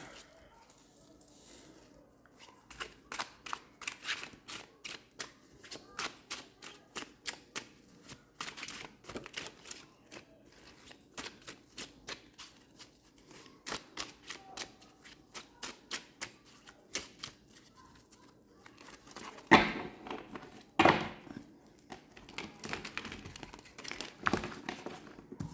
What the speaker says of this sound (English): All right, so let me shuffle these cards.